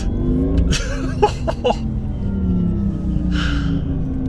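An 1100 hp electric Porsche launches under launch control, a rising electric whine building over road and tyre roar inside the cabin, with sharp gasps from occupants early on.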